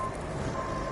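Brief steady tone from a truck's reversing beeper in the RoadCraft video game on PS5, heard over a low engine rumble.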